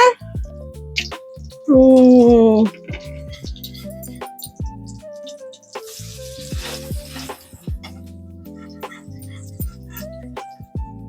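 A prawn omelette sizzles and fries in a pan, steady crackling running throughout, with a person talking over it and a brief loud tonal burst early on.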